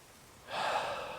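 A single deep, breathy inhale during a yoga stretch for pectus excavatum, starting softly and swelling to a steady rushing draw of air, close by and without speech.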